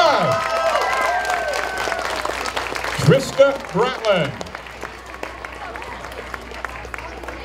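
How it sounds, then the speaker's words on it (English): An audience applauds a young contestant at a Little Miss pageant held at an Oktemberfest with a car show, the clapping mixed with an announcer's talk and rising briefly mid-clip before settling. "Oh, give her a round of applause."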